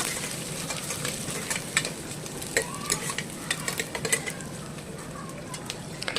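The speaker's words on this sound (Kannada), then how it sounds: "ಚೆನ್ನಾಗಿ ಫ್ರೈ ಮಾಡ್ಕೊಳ್ಳಿ ಎಲ್ಲನೂ." Green chillies and mint fry in a pan for mutton sambar, with a steady sizzle and crackle and scattered scraping stirring sounds close by, with no voices.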